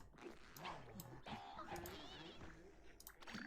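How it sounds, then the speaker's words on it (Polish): Small dog yips and whimpers in quick succession over Plants vs. Zombies game sounds, with a voice talking underneath. "To jest ten pies."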